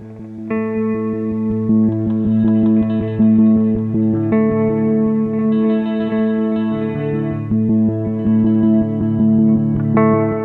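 A guitar washed in a granular cloud effect through a Strymon Iridium, Strymon Deco and Empress Reverb pedal: sustained shimmering chords layered with echoes and swelling reverb, loud and continuous.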